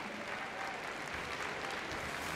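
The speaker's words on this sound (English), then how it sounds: "So a big round of applause please" Crowd applause rings out at Crufts 2012 for a small-dog agility lap of honour, a steady, fairly faint clapping spread evenly across the whole stretch without talk over it.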